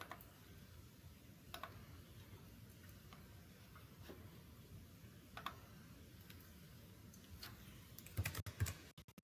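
Quiet typing on a computer keyboard, scattered soft key clicks over a faint steady background hum, with a cluster of quicker taps near the end.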